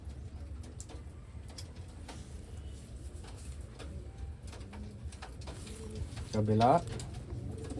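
Wantai racing pigeons from Taiwan sit quietly until a single short, throaty coo rises near the end, close and moderately loud, over a soft background of low talk and handling noise.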